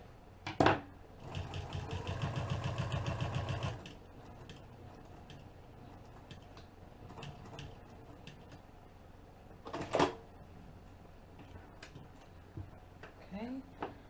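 A sewing machine stitching the bottom seam of a bag runs in one steady close burst of rapid stitching lasting a few seconds, amid quieter handling clicks and thumps.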